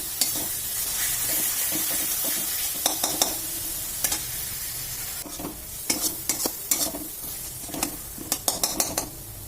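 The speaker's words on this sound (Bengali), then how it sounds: "মশলাটা কষিয়ে নেব।" Spice paste for a katla fish curry frying and being stirred in a pan, with a steady sizzle under repeated scraping strokes that come in clusters and grow busier toward the end.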